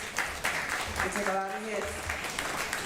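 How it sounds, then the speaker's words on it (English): An audience at a community gathering gives city staff a round of applause, dense clapping that runs the whole time with a brief voice rising over it midway. "City staff, give them a round of applause."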